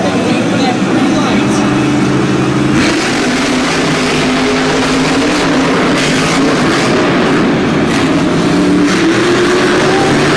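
Monster trucks racing side by side at a Monster Jam event in Syracuse, a loud continuous engine roar with rising revs over arena crowd noise, under an announcer's commentary.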